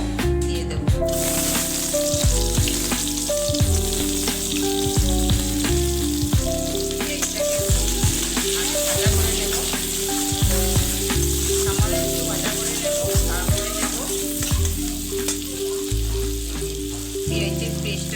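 Chopped onion fries in hot oil for egg curry, a strong, steady sizzle with occasional stirring and music playing in the background.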